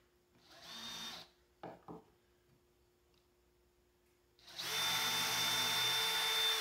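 A power drill bores through a wooden stick handle for a drawer or cabinet: a brief whir and a few short bursts come first, then a steady, loud, continuous drilling whine holds to the end.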